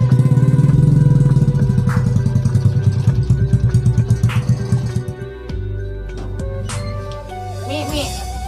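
A motorcycle engine idles loudly nearby in a Sundanese village setting, with a steady, rapid chugging that slows and fades before the engine settles into a lower, softer running hum. Voices are faintly heard in the background.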